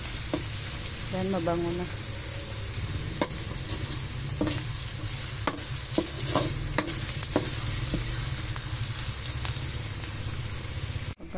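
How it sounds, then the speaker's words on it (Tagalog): Pork for kare kare stirred and fried in a pan, a constant loud sizzle broken by repeated sharp scrapes and clacks of the utensil, with a short spoken remark near the start. "Halo-haloin na natin itong mabuti para ito ay maluto."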